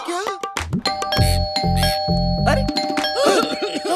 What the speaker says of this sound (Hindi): कोई घंटी बजा रहा है